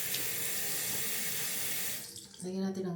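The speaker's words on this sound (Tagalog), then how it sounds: "Lagyan natin ng tubig." Water runs from a household tap in a steady hissing stream for about two seconds and then stops, followed by a short tonal clink or voice.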